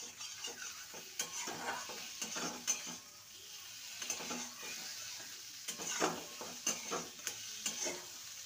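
Potatoes sautéing with spices in a pan for a bitter gourd curry, with a quiet sizzle under repeated scraping strokes and light clinks of a utensil against the pan, close and fairly faint.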